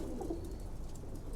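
Pigeons in two stacked cages coo softly and briefly, a low murmuring call over a faint steady background hum.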